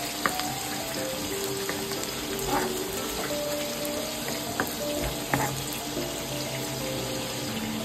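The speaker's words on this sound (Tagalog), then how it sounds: "Yan, magluluto na yung garlic." Garlic frying in a pan for Filipino papaitan makes a steady, busy sizzle with scattered crackles and faint clinks, continuous and close throughout with no talking.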